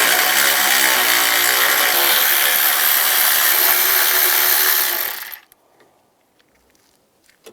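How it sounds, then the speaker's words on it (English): A 10mm socket, likely on a power tool, spins out bolts near the hood release of a 2006-2011 Cadillac DTS, giving a loud, steady whirring burst that cuts off abruptly after about five seconds, leaving near silence. "Then take these 3 bolts out."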